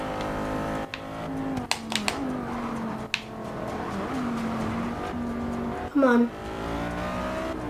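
Audi R8 race car in the Forza racing game, its engine droning steadily with sustained revving and a few short tire squeals and skid bursts, a voice talking over it.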